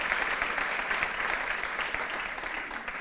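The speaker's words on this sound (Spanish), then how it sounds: "Un aplauso" A room full of people applauds a 15th-anniversary congratulation, a soft, steady patter of many hands that fades slightly toward the end.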